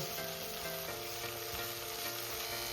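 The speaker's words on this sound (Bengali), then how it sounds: "এবার আমি এটাকে কিছুক্ষণ মশলাটা কষিয়ে নেব" Tomato and spice masala sautés in a pan, a steady dense sizzle with soft stirring underneath, close and continuous with no voices.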